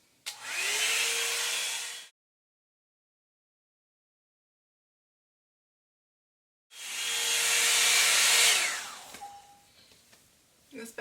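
A Revlon 2-in-1 hair dryer and volumizer blows with a loud, steady rushing whoosh in two bursts separated by a silent pause, followed by light handling noises at the end.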